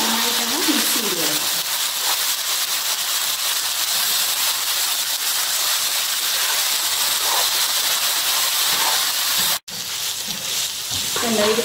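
Wheat vermicelli upma stirred in a pan on a low flame gives a continuous hissing sizzle with faint stirring scrapes, and a voice is heard briefly at the start and end.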